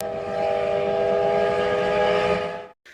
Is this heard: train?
yes